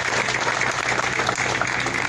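A crowd applauds steadily with dense, even clapping that fills the whole moment at a fairly loud level, and no voice comes through above it.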